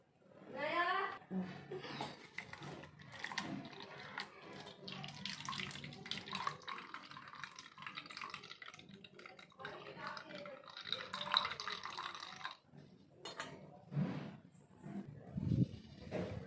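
Blended beetroot and water juice poured through a strainer in a home kitchen, a steady close trickle and splash of liquid with brief pauses, under someone talking.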